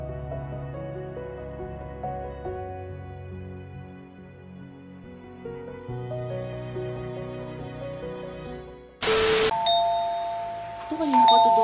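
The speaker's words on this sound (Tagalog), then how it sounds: "Ito kanina pa ito doorbell ng doorbell eh." A doorbell chime rings out loudly near the end, sounding about twice over background music.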